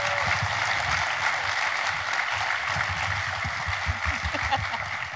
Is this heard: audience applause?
yes